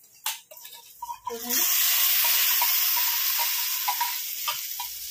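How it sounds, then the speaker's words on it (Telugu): A fried tempering, reddened in hot oil, is tipped into cooked dal with mango and erupts into a loud, sustained sizzle after a few light clinks, then crackles on steadily. "ఇప్పుడు ఈ వేగిన పోపు పప్పులో వేసుకుందాం"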